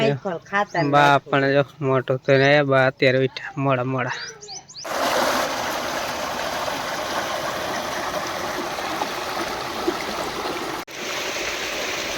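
A voice talks for the first few seconds, then irrigation water on a farm field is turned on and a loud, continuous rushing flow takes over and runs steadily to the end.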